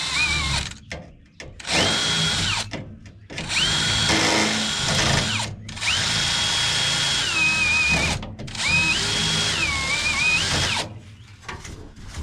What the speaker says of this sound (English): now that I continue drilling these out